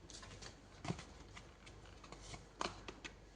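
A tarot card drawn from the deck during a Taurus horoscope card reading, with two soft, brief papery card slides, one early and one near the end, over a quiet room background.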